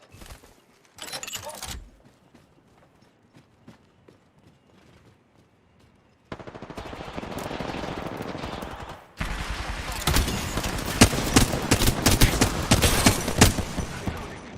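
Video game gunfire after a quiet stretch: sparse faint clicks, then a steady rumble of shots building into loud, dense rapid fire in the last few seconds.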